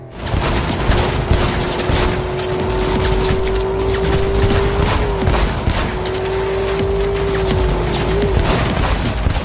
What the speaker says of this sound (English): After a few very impressive explosions